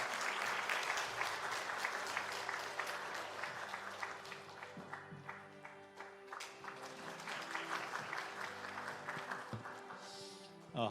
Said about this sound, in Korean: 우리 박수로 한번 환영해 드리겠습니다